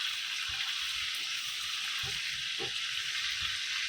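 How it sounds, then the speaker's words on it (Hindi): Prawns sizzling in hot oil in a home kitchen pan as they are turned over, a soft, continuous frying hiss with a few faint clinks and knocks, fairly quiet and with no talk. "अभी झींगे को अलट पलट करेंगे।"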